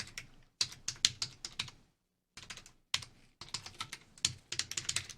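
Code being typed on a computer keyboard, heard as rapid, close, clicky keystrokes in three bursts separated by brief pauses.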